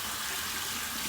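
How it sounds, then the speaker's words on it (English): Cold tap water runs steadily over a Shash alum block during a wet shave with a Rockwell 6S adjustable razor, a close, continuous splashing hiss with no voices. "Let's get the Shash alum block here, run under some cold water"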